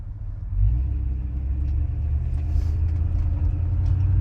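A 1964 Ford Galaxie convertible idles with a steady, low exhaust rumble that swells slightly about half a second in and then holds even and close throughout, with no talking.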